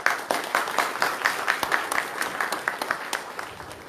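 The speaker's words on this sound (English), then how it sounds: "let us welcome him with a round of applause" An audience claps to welcome a scientist to the stage, a moderate, even patter of many hands going on steadily, slightly distant and not very loud.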